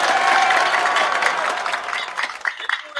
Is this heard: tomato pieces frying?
no